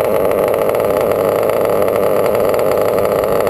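A .28-size engine, not yet warmed up, idles a little high with a steady, loud, continuous buzzing drone that holds an even pitch throughout.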